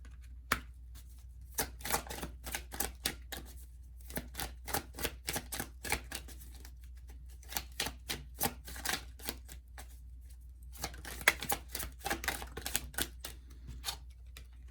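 Tarot cards handled and shuffled during a reading, giving a long run of quick, crisp flicks and taps in bursts with short pauses, close and fairly quiet over a low steady hum, without talk.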